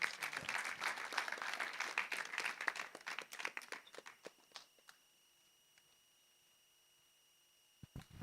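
Crowd applause at an outdoor breast cancer awareness walk in Kigali, Rwanda, a burst of many hands clapping that fades out after a few seconds into near quiet, with a couple of stray claps at the end.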